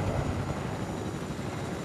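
Helicopter from the Fortnite video game, a steady dense rotor and engine rumble filling the whole short stretch at fairly loud level, with no talk.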